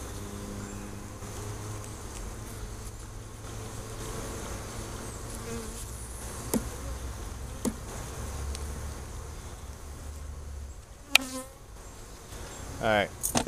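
Honey bees buzz steadily around an open hive during a fall inspection with burr comb being cleaned, a dense close drone with a few faint knocks and clicks and a brief scraping squeak near the end.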